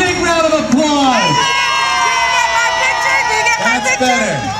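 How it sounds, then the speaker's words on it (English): Crowd of community members outdoors in front of a city hall cheering and whooping for police officers at a National Night Out event, loud shouts and high-pitched children's yells rising and falling over sustained noise. "So give them a big round of applause."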